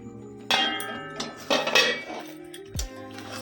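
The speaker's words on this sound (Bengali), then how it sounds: "এবার ঢাকাটা খুলে আর একবার দেখে নেব" The metal lid of a cooking pot of chicken biryani clanks and scrapes as it is lifted, then a few lighter clinks of metal follow. The sounds are close and come in separate knocks with short gaps.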